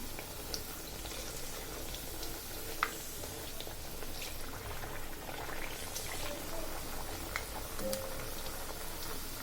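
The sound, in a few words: pakon pitha frying in hot oil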